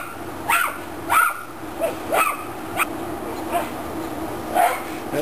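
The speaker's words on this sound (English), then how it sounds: "Dogs playing through the fence. They sound ferocious, but they're just playing through the fence." Dogs bark and yip while playing through a fence, a series of sharp, fierce-sounding barks about every half second to a second, fairly close and loud over a quiet outdoor background.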